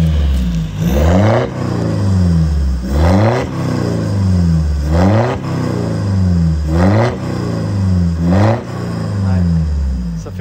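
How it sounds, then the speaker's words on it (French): A BMW engine revs hard again and again, about five loud, rising sweeps that each fall back to idle between them, close by and dominant, with some talk mixed in. "Le bruit caractéristique des BM."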